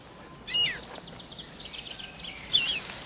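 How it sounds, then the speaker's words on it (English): A missel thrush gives a few short, faint chirping calls with a brief rising note near the end, heard alone against quiet background hiss. "It's a missel thrush."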